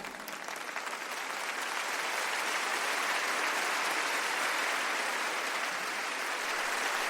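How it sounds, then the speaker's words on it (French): A congregation at a Bible study gathering in Bucaramanga claps for the Lord in a dense, sustained wash of applause that swells slightly and holds steady, with no voices over it. "Des applaudissements pour le Seigneur."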